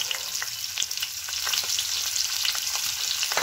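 Chopped onions hit hot oil already seasoned with green chillies, giving a loud, continuous frying crackle with scattered pops and stirring scrapes throughout, no talking.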